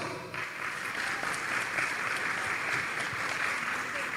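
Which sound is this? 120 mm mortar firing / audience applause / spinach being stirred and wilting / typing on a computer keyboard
audience applause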